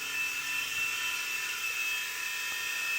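A small Blade mCX RC helicopter hovers indoors, a thin, steady high-pitched whine of tiny rotors and motors holding constant, fairly faint and without voices.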